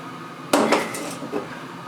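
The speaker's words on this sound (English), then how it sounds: "the only thing I don't like about these barrels is how hard it is to get this lid off" A plastic lid is pried off a 12 lb Loretone rock tumbler barrel with a couple of sharp clattering knocks and scrapes, close and alone.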